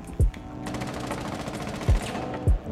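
Rapid bursts of video game gunfire, with a few heavy booming thumps spaced through the short burst of shooting.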